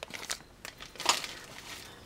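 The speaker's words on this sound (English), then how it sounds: "the usual McDonald's toy plastic bag here" A McDonald's plastic toy bag being handled, several short sharp crinkles and rustles in quick bursts, close and fairly loud.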